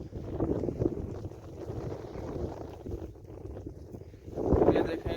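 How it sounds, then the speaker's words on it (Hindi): Wind blows outdoors in a village in Saudi Arabia on a hot morning, buffeting the microphone with a steady low rumble that swells into a stronger gust near the end, while someone talks throughout. "आज का मौसम गर्मी है लेकिन हवा चल रहा है"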